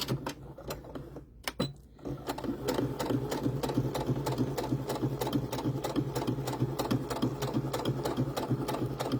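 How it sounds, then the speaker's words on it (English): A sewing machine runs steadily, stitching doll hair in a quick even mechanical rhythm, close up and loud after a brief pause at the start. "And then it's just sewing. Put your needle down, back space or back stitch"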